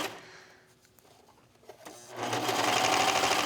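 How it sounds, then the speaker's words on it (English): A sewing machine stitching a leggings hem starts after quiet handling and small clicks, then runs as a loud, fast, steady mechanical whir close by. "And I'm just going to stitch."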